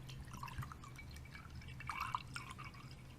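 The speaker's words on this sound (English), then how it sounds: "We got that full pour moment." Liquid poured in a kitchen on a hot summer day, faint trickling and dripping with small glassy splashes, steady and close but quiet.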